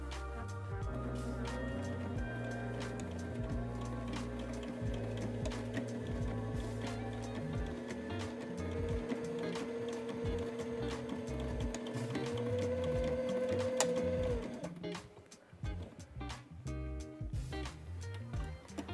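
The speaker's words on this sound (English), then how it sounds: "Now we're going to place our fabric under the foot and sew a line of stitches." A sewing machine stitches a line through fabric with a steady, even mechanical whir for about fourteen seconds, then stops, leaving a few light clicks and handling noises.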